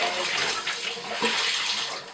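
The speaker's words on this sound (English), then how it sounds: "as the water was letting out, I would run cold water and do kind of another cold rinse to be able to rinse out all the detergent" Cold tap water pours steadily into a bathtub to rinse detergent out of soaked cloth diapers, a continuous close rushing stream with no talking.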